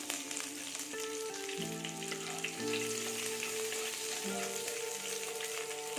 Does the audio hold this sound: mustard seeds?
yes